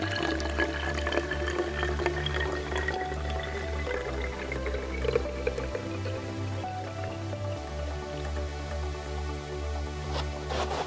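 Polynor Guard spray foam insulation liquid poured into a household paint sprayer or garden sprayer, a steady trickling, splashing flow with drip-like sounds running throughout, fairly close and moderately loud over a low steady hum.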